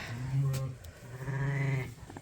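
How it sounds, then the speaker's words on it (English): Sheep bleat loudly inside a barn where ewes are kept with newborn lambs, with two long wavering calls close by, one after the other, and a brief knock between them. "start moving these sheep over to the coveralls, because the noise is unbelievable in this barn"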